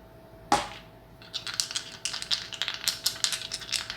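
Dice rattle and tumble onto a table during a tarot reading: a sharp initial clatter, then a run of quick, irregular clicks as they settle, close and fairly loud with no talking.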